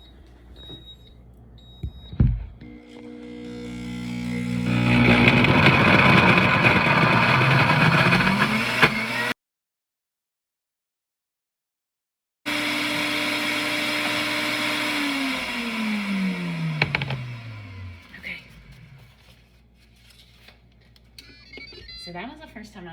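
A Pampered Chef cooking blender grinds hummus with a loud, steady motor whine that cuts out abruptly, returns, then winds down with falling pitch before quieting.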